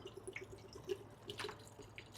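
Plain water from the fridge is poured into a homemade cold drink, giving a faint, steady trickle with soft splashy drips.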